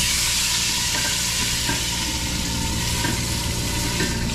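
Six pieces of fish fry in a pan, giving a loud, dense, continuous sizzle with faint crackles and occasional stirring scrapes throughout, no voices.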